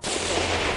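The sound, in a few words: gunfire from a gas station parking lot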